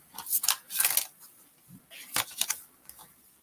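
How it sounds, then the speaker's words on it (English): Playing cards used for a card pull are shuffled close up in several quick riffling bursts with short pauses between, crisp and fairly loud. "shuffling."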